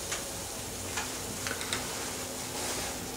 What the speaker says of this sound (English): fry up some bacon so I can fry up a rat